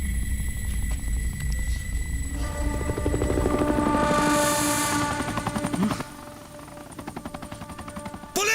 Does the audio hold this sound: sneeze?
no